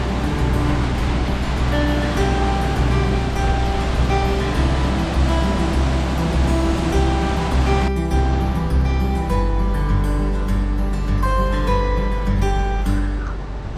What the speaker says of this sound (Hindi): ऊंचे घने पहाड़ी जंगल के बीच में से बह रही है सुपिन नदी